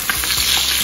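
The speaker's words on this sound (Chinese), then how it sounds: "我们先把排骨煎一下" Pork ribs pan-frying over high heat, a bright, crackling sizzle with a few scraping stirs, close and loud with no talking.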